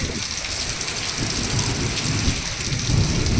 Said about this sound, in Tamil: சரியாக உள்ள மழையை நான் உங்களுக்கு காமிக்கிறேன் எவ்வளோ தூரம் பெய்யுது